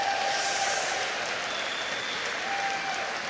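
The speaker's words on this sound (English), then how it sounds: "so let's give a big round of applause." An audience applauds at the opening ceremony of the 2018 WPS Allianz European Championships in Dublin, a steady, even wash of clapping from a crowd that holds for a few seconds.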